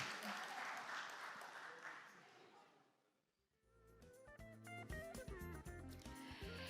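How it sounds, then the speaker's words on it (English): Audience applause at a Korea–Singapore future mobility seminar: dense, steady clapping for about three seconds that fades to near quiet, followed by music starting up. "once again, give them a round of applause"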